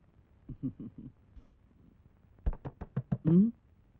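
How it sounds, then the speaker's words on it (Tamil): Knuckles rap on a door in a Tamil film scene, first a set of four quick knocks, then after a pause a louder, faster series of about eight, with no talk over them. "எவனோ கதவை தட்டி நம்மள பிரிக்கிறான்"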